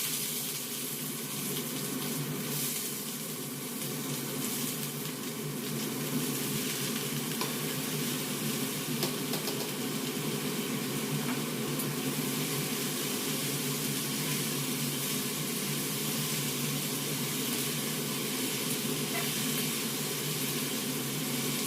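Food sizzles in a kadai-style wok for over twenty seconds: a dense, steady frying hiss with faint bubbling from water heating alongside.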